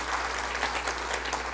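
A church congregation applauds during a Spanish-language service, giving a brief, dense burst of clapping at moderate volume with no voices over it.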